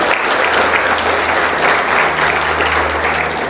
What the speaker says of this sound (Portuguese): Você pode aplaudir o Messias por isso?